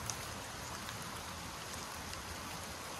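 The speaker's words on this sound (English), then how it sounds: "it's been raining" Steady rain falls outdoors near beehives, a soft, even hiss of drops hitting surfaces with no voices, constant throughout.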